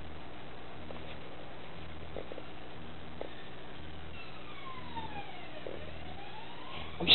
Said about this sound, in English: Ooh, sirens.